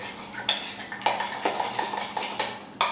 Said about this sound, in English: So you stir it up really good.